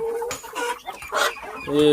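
Peruvidai native chickens cluck and chatter in a short, busy, close run of overlapping calls.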